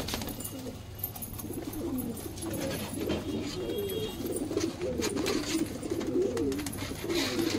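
Domestic pigeons kept by a pigeon fancier coo in repeated soft, rolling phrases, close and steady against a quiet background hiss.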